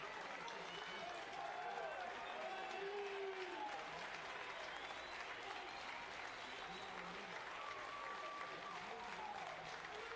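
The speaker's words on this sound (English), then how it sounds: "USF crowd now starting to try to rally McLanahan." The USF baseball crowd at the American Athletic Conference championship claps and cheers steadily to rally the pitcher, a continuous wash of applause and voices heard at a distance behind a commentator's talk.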